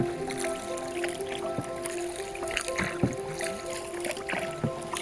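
A boat moves across the deep Ranikor River with soft splashing, dripping and knocking against the water, a steady drone running beneath, close and moderately quiet, with no voices.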